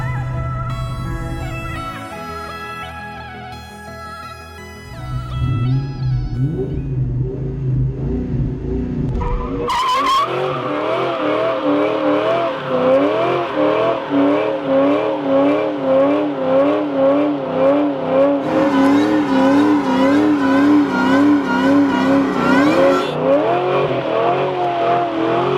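A Terminator Cobra's engine revs hard during a burnout, loud and sustained with rising and wavering pitch over tire noise, after an opening stretch of lower, steadier engine sound.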